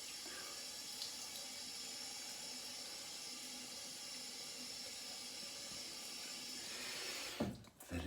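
Tap water runs steadily into a sink while the face is wetted for a wet shave, a continuous faint hiss ending in a brief splashing burst.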